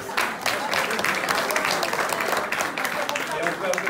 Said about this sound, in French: Un applaudissement pour la 3e D également.